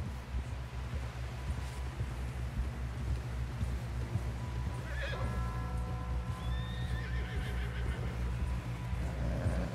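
A horse in the Red Dead Redemption 2 video game gives a loud whinny midway through, over a steady bed of hoofbeats and low rumbling ambience.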